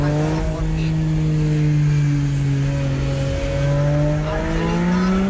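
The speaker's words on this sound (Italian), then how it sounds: "enorme e ululato dello scarico di questo 12 cilindri" A Ferrari 550 Maranello's twelve-cylinder exhaust wails continuously for several seconds, loud and near, its tone rising gently, dipping briefly, then climbing again.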